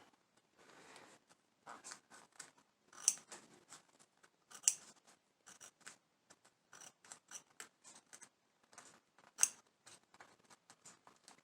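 Close, repeated snips of scissors trimming fabric for a Nosferatu-style coffin bag, irregular bursts of cutting with a few sharper, louder clips and short pauses between, no voices.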